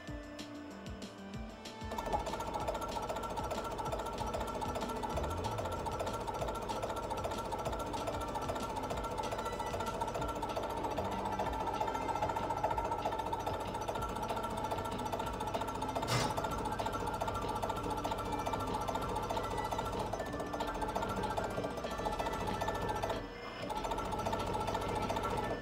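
Diesel injection pump running on a test bench at about 150 RPM: a steady, rapid mechanical clatter and hum that starts after a brief rustle, holds evenly for over twenty seconds at moderate level, with a single sharp click partway through.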